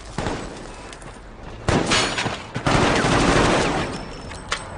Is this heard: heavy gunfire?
yes